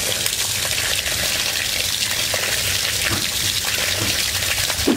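Water gushes steadily from a backwash faucet in a house, a loud continuous rushing stream with no pauses and no talking.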